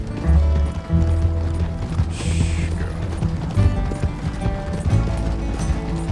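Steady rhythmic clip-clop of horse hooves in Red Dead Redemption 2, close and continuous, mixed with rattling mechanical game sounds and a brief hiss.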